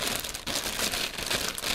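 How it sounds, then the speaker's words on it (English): An unsealed plastic bag crinkles and rustles as it is pulled off a Rebor Acrocanthosaurus dinosaur figure, a short, close, continuous crumpling sound. "plastic bag that's not sealed. You just kind of pull it off."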